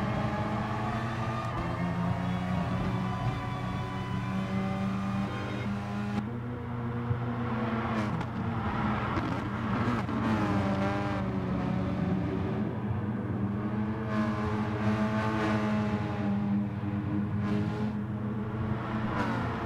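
Race car engines in the racing game GT Sport, a Renault Megane and a Nissan GT-R running in a close pack on a mountain course. Several engines drone and rev with rising and falling pitch, changing gears, loud and continuous, with no talk.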